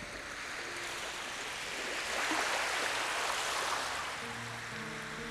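Continuous ocean surf from the visual novel The Fruit of Grisaia, a steady broadband wash of waves that swells slightly toward the middle, heard alone without voices.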